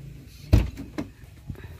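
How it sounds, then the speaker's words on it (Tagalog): The door of a 2002 Toyota Granvia minivan gives a single solid thunk as it is opened, followed by softer latch and handling clicks nearby. "Pagbukas ng pintuan,"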